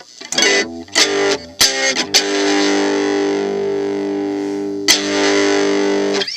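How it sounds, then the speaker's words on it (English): An electric guitar runs through a Pignose amp's built-in distortion: a few sharp, choppy plucked hits, then a loud sustained distorted chord that rings out, with one more struck accent near the end. "One of the reasons why I chose this pig nose is because it has built-in distortion."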